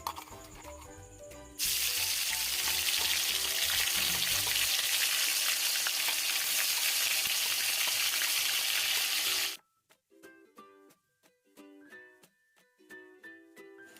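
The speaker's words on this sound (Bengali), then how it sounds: "আমার গরম করা তেলটা তো আমার গরম আছেই অলরেডি, আমি তার মধ্যে আদা রসুন পেস্টটা দিয়ে দেবো" Ginger garlic paste drops into hot oil for a homemade chicken biryani and erupts into a loud, steady sizzle for several seconds, then cuts off sharply, leaving faint clinks and light kitchen sounds.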